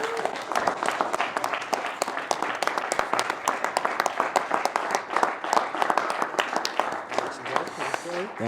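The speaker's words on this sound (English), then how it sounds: "let's give these guys a round of applause," Applause and clapping from a crowd at a men's empowerment conference, sustained across the whole stretch, with speech and voices mixed in throughout.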